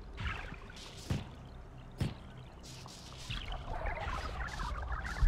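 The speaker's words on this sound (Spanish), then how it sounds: "Vale, el efecto del agua no está mal." Watery trickling and dribbling from the Zordak demo, a Metroid-style game, with soft pouring and dripping textures, a few sharp clicks, and a busier bubbling burst toward the end.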